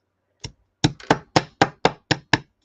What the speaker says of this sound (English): I'm going to hammer it down flat again